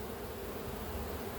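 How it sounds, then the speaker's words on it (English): Honeybees swarm out of an opened beehive during an inspection, a dense, continuous buzzing drone that is close and even, with no voices over it. "Wow, that's some bees."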